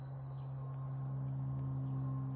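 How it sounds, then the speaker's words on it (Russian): Faint birdsong chirps high above a steady low hum outdoors at a countryside dacha, distant and brief against the drone. "Птички-то поют."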